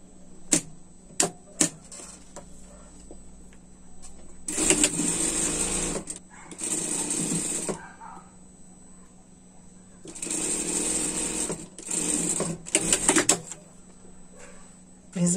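A sewing machine stitches a seam closed on a winter pet dress, running in two sustained bursts separated by quieter handling and a few sharp clicks, close and fairly loud.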